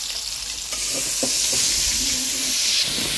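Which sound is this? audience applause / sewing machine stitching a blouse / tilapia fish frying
tilapia fish frying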